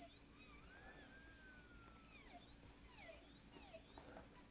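A dental drill on a gold onlay tooth preparation gives a faint high-pitched whine that rises and dips in pitch as it works in brief passes, quiet and close, with no speech.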